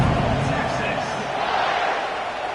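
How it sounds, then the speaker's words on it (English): A football stadium crowd keeps up a dense, steady roar after a touchdown, loud and continuous with no single voice standing out. "this crowd is buzzing after that last score"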